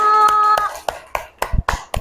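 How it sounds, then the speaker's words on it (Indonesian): Children in a classroom clap their hands as a group, giving a few sharp, irregular claps close by after a brief voiced sound at the start. "Beri tepuk tangan untuk kelompok nyamuk"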